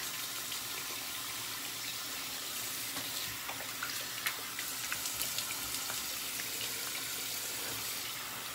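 Tap water runs steadily at the sink while shaving gear is rinsed after a shave, a continuous close hiss with light splashing and small clinks and no voices.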